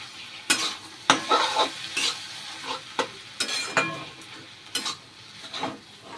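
Chopped coriander stirred into a dish frying in a pan, with a spatula scraping and clattering in a series of distinct, fairly close strokes over a steady sizzle.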